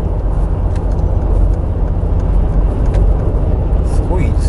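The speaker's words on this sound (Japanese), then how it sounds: "でアクセル本当にちょっと踏むと" A 2013 Mercedes-AMG G63, a four-wheel-drive SUV, surges forward on just a light press of the accelerator, with a steady, dense engine and road roar heard from inside the cabin under continuous talk.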